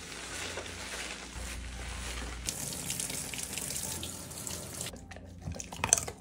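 Shower water runs steadily while a dog is washed, a soft spraying hiss that shifts in tone as the flow moves, ending with a few louder splashes and drips.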